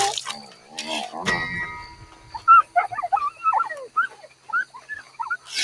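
A dog in the video game Red Dead Redemption 2 gives a few short yelps and whines after gunfire and clanging, with some game chatter before it.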